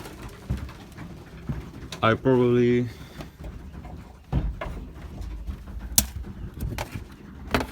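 Belgian racing pigeons coo nearby in one clear, drawn-out call, with someone talking over the birds and scattered movement noises around them.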